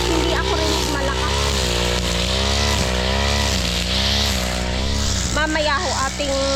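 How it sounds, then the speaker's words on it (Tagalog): A grass cutter engine works a farm field, a loud sustained motor whine that dips and revs briefly in places and carries on without pause. "Hindi ho ako rinig ni Lolo at malakas po yung grass cutter."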